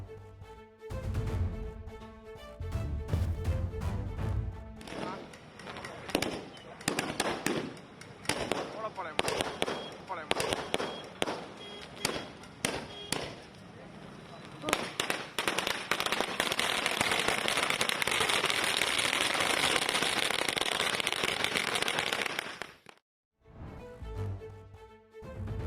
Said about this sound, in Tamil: அதிமுகவினர் பட்டாசு வெடித்து கொண்டாடினர்.